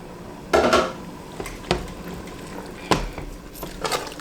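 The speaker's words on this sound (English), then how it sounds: "So I'm gonna stir that in" A spoon scrapes and knocks against a cooking pot while stirring home-canned beans into chili, with several distinct metallic clanks spaced a second or so apart over a soft background, close and fairly loud.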